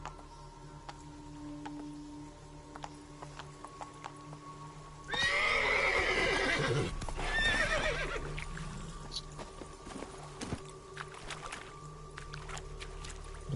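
Roach, a horse in The Witcher 3, gallops with rapid hoof clip-clops and lets out a loud whinnying neigh midway, rising over a steady game ambience before fading back to the background hum.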